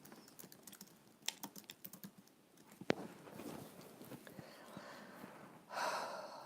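Fingers tap quickly on a computer keyboard in an uneven rhythm, close and fairly quiet, with breathing and a few soft rustles in a quiet room.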